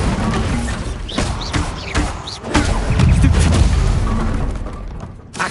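A Bombarda spell detonates in the Hogwarts Legacy video game, a loud booming blast with rumbling low-end debris that swells and slowly fades amid scattered combat impacts.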